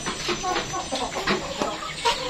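Chickens in a poultry coop struck by bird flu cluck in a busy, overlapping chorus, with several birds calling close by against steady coop noise.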